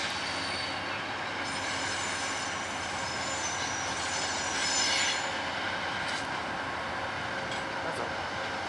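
Two locomotives haul a passenger train past, the cars rumbling by steadily with high wheel squeal ringing over the roar, close and continuous throughout.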